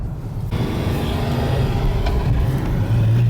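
A Nissan R34 Skyline cruises around the block, its engine a steady, loud drone with low rumble throughout, heard from inside the car with no talking.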